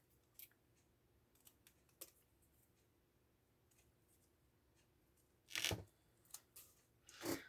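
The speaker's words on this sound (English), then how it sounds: "just go ahead and cut V's at the bottom so that you're cutting this center of the flower out" Scissors snip through paper leaves in sharp, dry cuts, several faint scattered clicks followed by a louder cluster of close snips near the end, in an otherwise quiet room.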